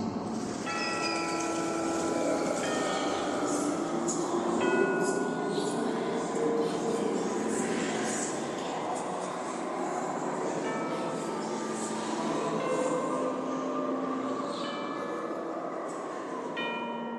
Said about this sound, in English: And now, a carriage approaches to take you into the boundless realm